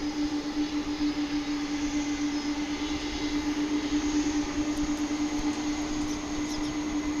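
The three engines of a 1991 MD-11 jet at DFW International Airport give off a steady, distant whine with a constant tonal hum over broad airport rumble, unbroken for the whole stretch.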